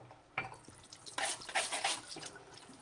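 A lemon is rinsed under a running kitchen tap, water splashing and spattering close by in uneven bursts that swell and fade over a few seconds.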